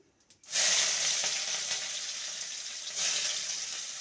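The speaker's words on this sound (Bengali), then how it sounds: "পেঁয়াজটাকে হালকা ভেজে নেব" Chopped onions hit hot oil with bay leaf and whole spices, bursting into a loud, close sizzle after a brief quiet moment, then frying on in a steady hiss with a swell near the end.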